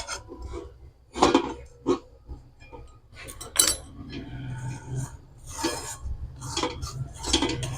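A metal spoon scrapes and clinks against a kadai while dry-roasting semolina (suji) without oil, with irregular close stirring strokes and taps throughout.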